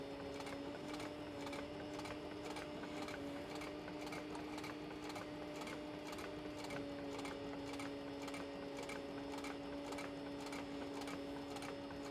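A sewing machine top stitching through leather runs steadily and close, its rapid needle ticking continuous across the whole stretch with a faint motor hum underneath and no talking.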